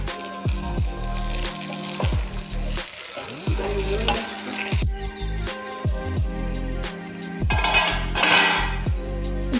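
Eggplant curry frying in a pan as a spoon stirs it, with loud close sizzling and repeated metallic scrapes and clinks against the pan.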